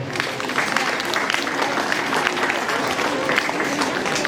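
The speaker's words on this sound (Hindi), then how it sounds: "आइए हम एक दूसरों को स्वागत के तौर पर जोरदार ताली बजा दें।" A school audience claps in welcome at the opening of a science, arts and craft exhibition, with dense, continuous applause that stays at an even level throughout the few seconds.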